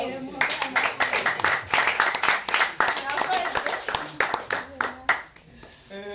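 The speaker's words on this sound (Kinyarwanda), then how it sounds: "tumukomera amashyi" An audience claps in a dense, irregular burst at a celebration for a young woman and her family, running steadily under a loud speaking voice.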